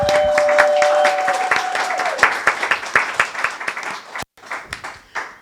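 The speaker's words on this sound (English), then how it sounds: "we should all give ourselves a round of applause" Audience applause at an educational night-school event, dense clapping that thins toward the end into scattered claps, with a few brief voices mixed in.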